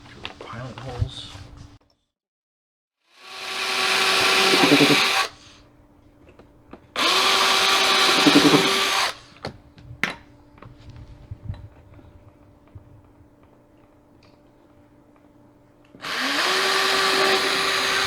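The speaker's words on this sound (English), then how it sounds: "Switch back to our drill. Drill pilot holes." Power drill boring pilot holes for mounting a retractable baby gate, heard in three loud sustained bursts of a few seconds each, separated by quieter pauses with faint handling noises.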